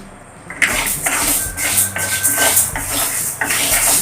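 Rice is roasted in a pan over a medium flame, with repeated clattering scrapes and knocks of a utensil against the metal pan, loud and close.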